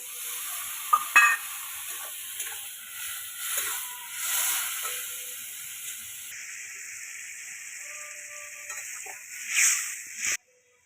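Mustard and green chili paste frying in a pan, a steady close sizzle and hiss with occasional stirring scrapes and clinks, continuing for several seconds before ending abruptly, no voices.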